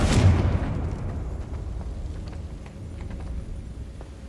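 Confringo fire spell in the video game Hogwarts Legacy exploding with a loud, sharp blast at the start, then a rough rumbling roar that fades slowly.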